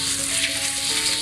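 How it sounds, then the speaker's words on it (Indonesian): Ground spice paste and blended dry spices stir-fry in a hot pan for Cirebon sega bogana, giving a close, steady, crackling sizzle throughout with no talk. "Ini kita gongsong"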